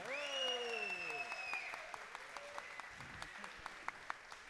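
Audience applause at Circo Voador, a Rio de Janeiro venue, during a comics talk: a host's voice trails off as steady clapping from a sizeable crowd rises and continues evenly throughout.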